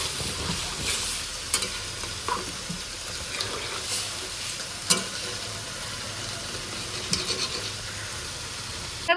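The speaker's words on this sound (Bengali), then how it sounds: "এখানে আমার ভাজা প্রায় হয়ে গেছে, তারপর আমি দিয়ে দিচ্ছি জল" Mixed vegetables fry in a pan and are stirred, producing a steady close sizzle punctuated by occasional clinks and scrapes of a spoon against the pan.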